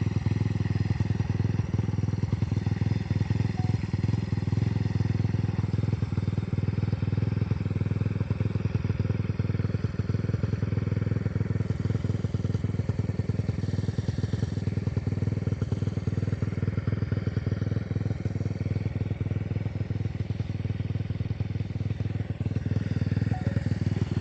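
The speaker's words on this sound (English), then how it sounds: "hopefully you can hear me over the engine" A motorcycle engine drones continuously while riding, a loud, steady close-up hum with rattling and wind buffeting throughout.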